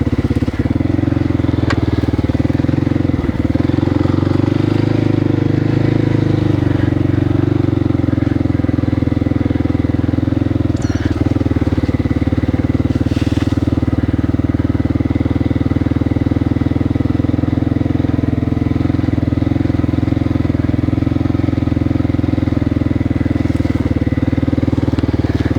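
A trail motorcycle engine runs steadily for the whole stretch, loud and close, with an even, throbbing mid-range drone and a few faint clicks and clatters on top.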